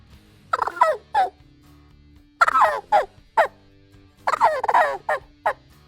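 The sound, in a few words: turkey call imitating young jake gobble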